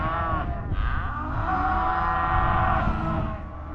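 A single cow in the cattle pens gives one long, loud, close moo lasting several seconds over a low background rumble, with no talking.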